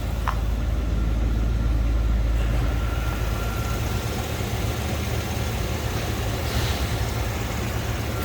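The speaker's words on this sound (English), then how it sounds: "Nice, smooth running engine." A 1980 Chevrolet Corvette V8 engine idles steadily nearby, a smooth, even low rumble that holds constant throughout with no talking.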